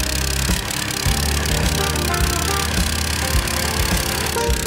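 Reduction-drive engine powering a cultivator, running steadily and loud with a low, even throb and faint mechanical knocking throughout, no voices.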